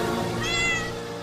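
A single drawn-out cat meow, clear and close, used as a story sound effect, with rising and falling harmonic tone lasting about a second.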